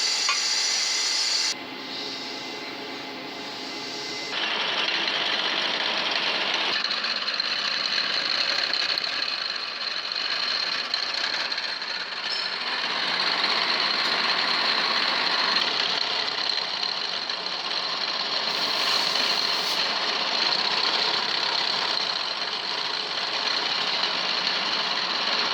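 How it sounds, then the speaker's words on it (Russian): A milling machine cuts out a crack in a VW T5 Transporter 2.5 cylinder head clamped to its table, giving a steady, loud mechanical whine and grind that runs unbroken throughout, with no talk. "ставит головку на фрезерный станок, фиксирует ее на столе и распускает трещину"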